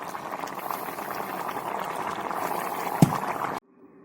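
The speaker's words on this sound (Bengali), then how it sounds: "একটু ফুটে উঠলে নামিয়ে নেবো" A pot of chara pona fish curry with cauliflower and beans bubbles at a steady boil for a few seconds, close by, with a single sharp knock near the end before it cuts to near silence.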